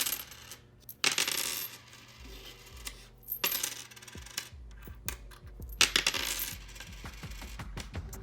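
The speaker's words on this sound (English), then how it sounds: "let's flip the pennies and see if there's another card" Pennies flipped and dropped for a divination reading clatter onto a hard surface in several bursts, each a quick jingling scatter followed by small settling clinks, close and clear with no talking.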